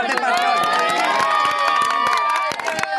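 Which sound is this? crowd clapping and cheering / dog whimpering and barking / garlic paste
crowd clapping and cheering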